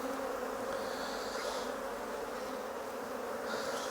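Honeybees swarm and drone steadily around an opened National hive during a colony split, a continuous close buzz filling the whole stretch with no voices.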